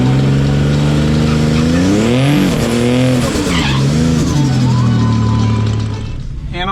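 A Buick Grand National launches at a night drag strip, its engine droning loudly with a pitch that rises, dips and rises again through gear changes, with a brief tire chirp, then fades as the car pulls away.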